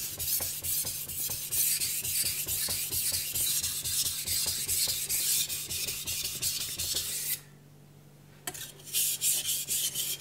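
A kitchen knife with chipped edges is being sharpened on a Naniwa Gouken Kuroto 1000 grit whetstone: steady, repeated close-up grinding strokes in an even rhythm, with a short pause near the end before the strokes resume.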